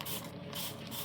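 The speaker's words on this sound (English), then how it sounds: "I'm gonna spray her with neem oil solution." Spray bottle misting neem oil solution onto an orchid's leaves, a short close, steady hiss lasting about a second with no voices.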